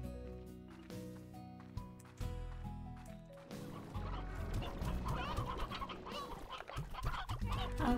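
Chickens clucking on a Slime Rancher ranch, a dense cluster of fowl whose clucks build into a busy, overlapping chorus over game music and ambience.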